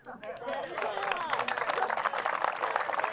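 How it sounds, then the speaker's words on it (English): Crowd applause breaks out at a street renaming ceremony, dense clapping building quickly and holding steady and loud, with a few cheers and voices mixed into the ovation. "everybody give him a round of applause"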